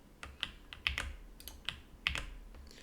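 Someone types a search on a computer keyboard: sparse, crisp key clicks close to the microphone in an irregular rhythm, with a few sharper presses standing out and no talking.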